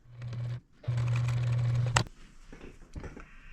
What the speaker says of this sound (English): And then I'm going to sew from this little V across to this little V and make my seam.